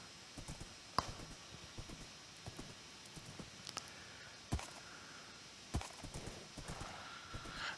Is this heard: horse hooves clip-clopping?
yes